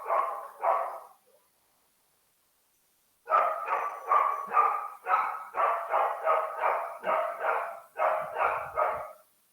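Several dogs bark in repeated close bursts, two quick barks, a pause of silence, then a steady run of about a dozen loud, evenly spaced barks near the listener.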